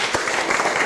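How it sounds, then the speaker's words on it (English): Audience applause at a university sustainability dialogue event, a brief, dense burst of many hands clapping at steady loudness. "Can you people clap for him?"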